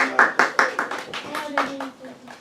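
Sharp hand claps in a quick run, about a dozen in under two seconds and slowing toward the end, close and loud, with a voice talking over them.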